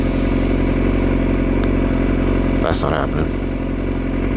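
A motorcycle running at high speed on a highway, a steady loud engine and wind roar throughout with a brief clattering burst midway, while someone talks over it.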